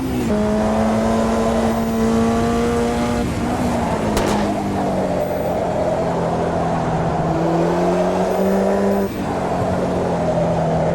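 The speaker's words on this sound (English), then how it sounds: "I love the backfires out of the back, man." A Formula Junior race car in the Automobilista 2 sim racing game drones with a steady engine note that shifts pitch, broken by a couple of sharp pops from the exhaust, with no talking.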